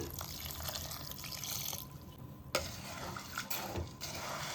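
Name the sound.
water poured onto jaggery in pot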